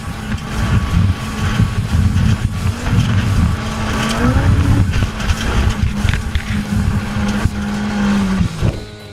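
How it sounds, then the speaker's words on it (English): A professional rally car tears at full throttle down an extremely rough road, heard from inside: a loud, continuous engine roar with rising revs, gear shifts, and constant rattling and banging from the bumpy surface. "this is what a professional rally driver race looks like in first person"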